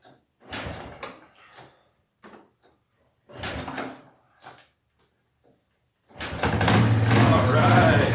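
A 1984 Honda TRX200 ATV on full choke takes a couple of pull-start attempts, short rasping bursts separated by pauses, before the engine catches and settles into a loud, steady, close running roar.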